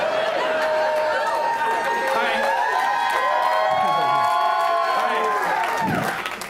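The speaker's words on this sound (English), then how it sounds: "That's the most applause the Browns have gotten in probably 10 years." A crowd cheers, claps and whoops in response to a mention of the Cleveland Browns, with many voices shouting over the applause before it begins to fade at the end.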